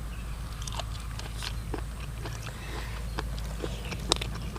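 Close crunchy chewing and biting on pounded cuttlefish tentacles in a spicy fermented-fish-sauce salad eaten with rice noodles, with repeated short crisp crunches over a low steady background hum and no talk.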